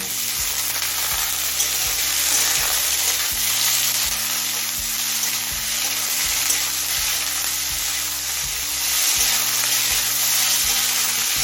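Potatoes fry in oil with black cumin and green chilli over a low flame, giving a steady, close, even sizzle that runs throughout, with occasional soft stirring knocks.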